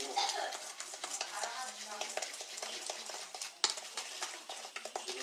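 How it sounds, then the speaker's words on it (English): Chocolate chip cookie ingredients and melted butter are stirred together in a bowl, making a close, rhythmic scraping and sloshing that runs steadily throughout. "take those ingredients, mix them together real quick"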